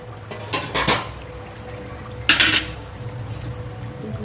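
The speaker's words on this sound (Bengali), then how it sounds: "ঢাকাটা তুলে নেব আমি" A metal lid lifted off a pot of chicken biryani, giving two short clanks of metal on metal about two seconds apart over a low, steady kitchen hum.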